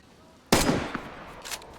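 Gunfire in an online multiplayer shooter, one sharp loud burst followed by a couple of quieter shots trailing off, close and alone without talk.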